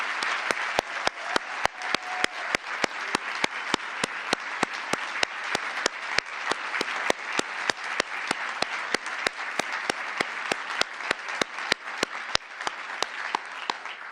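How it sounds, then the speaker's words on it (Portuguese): A conference audience at the Brazil Conference opening gives sustained applause for the event organizers, dense continuous clapping from a large crowd with a few sharp individual claps standing out throughout. "eu queria pedir uma salva de palmas para todo mundo que está aqui ajudando a organizar isso aqui"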